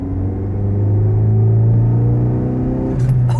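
A car engine hums loud and close with a steady low rumble, rising slightly as it accelerates before easing off.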